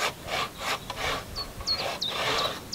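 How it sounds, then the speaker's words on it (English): Hand saw cutting marking kerfs into wood at an off-grid earthbag workshop, with short rhythmic rasping strokes, close and moderately loud, and a few squeaky high-pitched scrapes near the end. "I find doing like saw cuts like this a very accurate way of marking"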